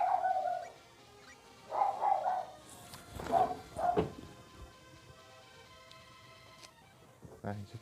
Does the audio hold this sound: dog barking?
yes